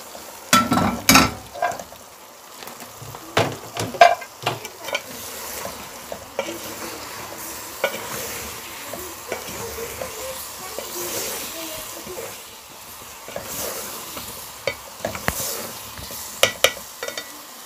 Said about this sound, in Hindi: और अब मैं इसको अच्छी तरह से भून रही हूँ